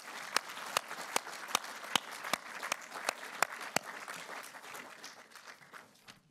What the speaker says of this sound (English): give a round of applause to thank John for being here